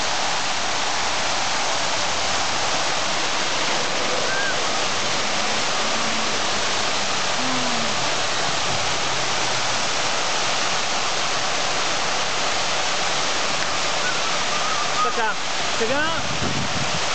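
A public fountain with water flowing steadily, a continuous broadband rush that runs the whole time, with a voice speaking briefly over it.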